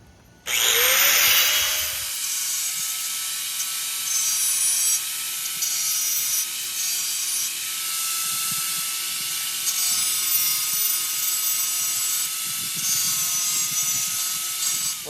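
A cutoff wheel grinds the edge of an 18 gauge sheet metal backer strip in a shop working on an old Chevy, a loud sustained high whine that starts abruptly and runs on steadily with slight wavering.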